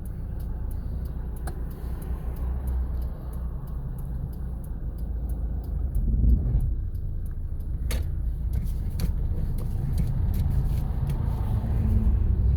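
A car pulls out of a parking space during a driving lesson, heard from inside the cabin as a continuous low engine and road rumble that grows slightly heavier as it moves off, with occasional small clicks.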